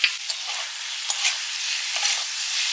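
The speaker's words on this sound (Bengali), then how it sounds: "মশলাটা ভালো করে কষিয়ে নিয়েছি" Vegetables and spices stir-fry in a pan with a steady, bright sizzle, broken by a few sharp scrapes and clinks as they are tossed; no voices.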